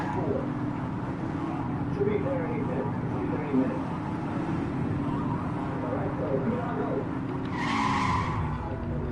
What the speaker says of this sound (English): My tire just spun out